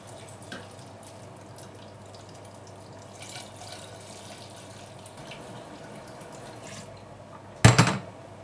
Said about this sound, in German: So, jetzt kommen 500 Gramm Wasser dazu.